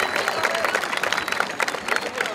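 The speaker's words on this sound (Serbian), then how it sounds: "Još jedan aplauz za obe ekipe," A crowd at a small-sided football tournament final applauds in a dense, steady patter of many hands, close and continuous with no pauses.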